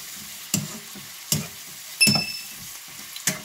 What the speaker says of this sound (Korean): 지금은 호박을 볶고 있고